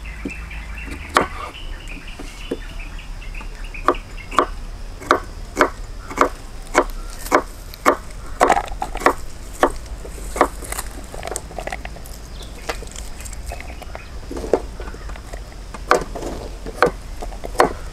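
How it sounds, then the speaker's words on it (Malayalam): Onions are chopped with a knife on a board in a steady run of sharp, close taps, roughly one every second or faster, over a low background hum. "നമുക്ക് ഉള്ളിയൊക്കെ കട്ട് ചെയ്ത് കഴിയാനായിരിക്കും."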